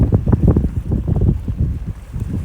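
Strong gusty wind buffets a microphone on an anchored fishing boat at sea off the Gujarat coast near Porbandar during a storm, with heavy low rumbling surges and no voices.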